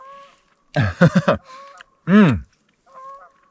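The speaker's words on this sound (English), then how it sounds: "There's a wild goose screaming at us." A wild goose honks loudly and close by at an outdoor riverside fishing and trout-cooking camp, letting out a rapid run of harsh cries, then one long drawn-out honk and a fainter trailing call.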